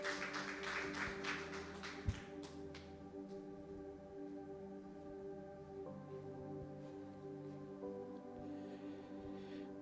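A church meeting audience applauding, a dense patter of many hands clapping at the start that fades quickly into quiet, sustained tones, heard at a distance and fairly faint.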